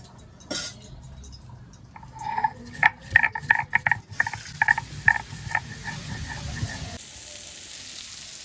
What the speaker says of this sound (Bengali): মা তো ওইদিকে কুশি ভাজা করছে